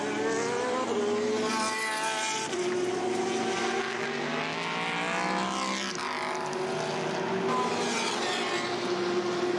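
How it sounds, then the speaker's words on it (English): A race car at the 24 Hours of Le Mans passing and turning into the pits, its engine whining and shifting pitch as it goes by, with more passing cars rising and falling in the background. "So car 58 comes past us and into the pits."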